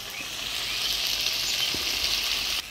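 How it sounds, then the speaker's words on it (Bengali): Mutton, fried potatoes and spices fry in a pan for a village-style thin mutton curry, giving a constant close sizzling hiss with a couple of faint stirring scrapes and no talking. "আলু মাংস মশলার সাথে ভালোভাবে কষিয়ে নেব।"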